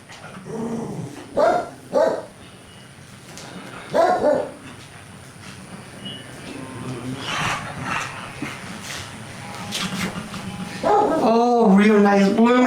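Dogs bark and growl nearby in short, loud bursts separated by pauses, with a person talking through the noise on a windy day.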